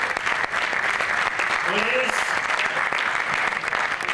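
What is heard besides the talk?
applause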